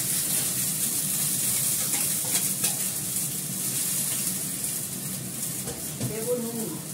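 Chopped bottle gourd drops into a pan of simmering lentils with a little water, giving a steady wet sizzle and bubbling with a soft stir, under a voice speaking Bengali.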